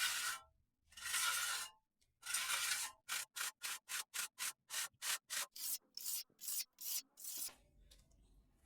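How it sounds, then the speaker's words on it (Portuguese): A plastering trowel rubs across a rustic grafiato textured wall, first in three long, loud scraping sweeps and then in a rapid run of short rhythmic strokes, close by with no talking. "Então eu passo a desempenadeira para quebrar esses cantinhos que ficam mais altos."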